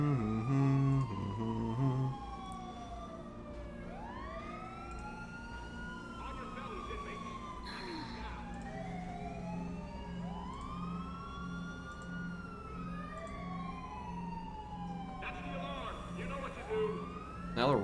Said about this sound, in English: I can barely hear the cop siren.